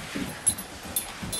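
A whippet lets out brief, soft whimpers and small yips, several short cries spread across a moment, close by and fairly quiet.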